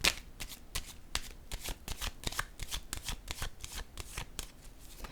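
Tarot cards shuffled close up in quick, crisp riffling bursts that repeat steadily, fairly quiet and alone with no talking.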